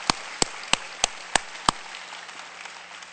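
Six sharp, evenly spaced claps ring out during a Sunday church service, then give way to a low, quiet hum.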